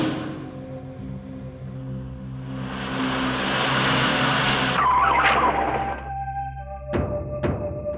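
A car's tires squeal loudly as it skids to a halt over engine drone and a tense music bed, ending with a couple of sharp thunks.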